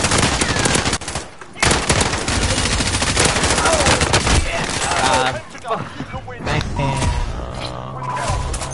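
Rapid bursts of automatic gunfire in a Call of Duty: Warzone trios match, dense, loud and near, stretching across the whole stretch with short gaps, while players talk over the shooting.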